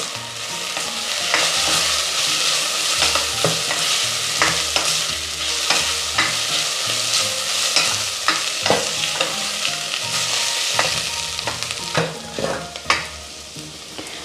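Onion, green chilli, ginger, garlic and curry leaves sautéing in a pan for Kerala beef mappas, a steady close sizzle with repeated stirring scrapes and light clacks throughout.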